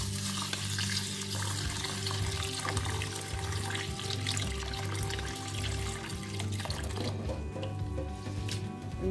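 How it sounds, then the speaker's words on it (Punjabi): Split mung dal being washed in water for bajra khichdi, with continuous close sloshing, swirling and trickling water throughout and a faint tap-like running sound, no talking. "ਇਹਨੂੰ ਅਸੀਂ ਧੋ ਲੈਂਦੇ ਪਹਿਲਾਂ ਚੰਗੀ ਤਰ੍ਹਾਂ"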